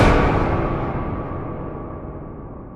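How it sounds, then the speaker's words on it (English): Slenderman jumpscare sting from a Minecraft recreation of the Slender game, a sudden loud dense burst of harsh static-like noise that slowly fades over a few seconds, alone with no voices. "next up on the list is Slenderman's Jumpscare sound."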